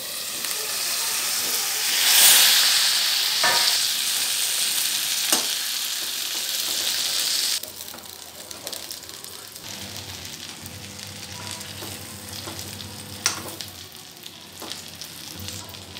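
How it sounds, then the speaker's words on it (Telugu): Eggplant curry with spice powder frying in oil in the Nellore style, a loud steady sizzle that drops to a softer crackle halfway through, with occasional stirring clinks close by. "ఆ కారపొడి బాగా ఫ్రై అవుతుంది."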